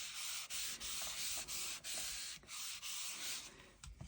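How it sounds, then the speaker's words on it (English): Paper glued onto a surface is burnished by hand in repeated back-and-forth rubbing strokes, a steady scratchy friction sound with brief pauses about every half second, close and fairly quiet, no talking. "If you want to, just give it a quick burnish."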